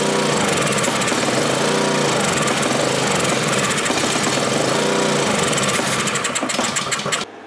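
Honda GCV160 engine on a Ryobi pressure washer running steadily with a rough, slightly surging drone, loud and close, then cutting out abruptly at the end, no talk.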